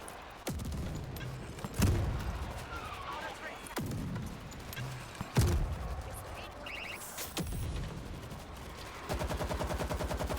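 Sharp game gunshots ring out against zombies in World War Z's New York chapter, several single loud cracks spaced seconds apart, then a rapid automatic burst at the end, with a player talking between shots.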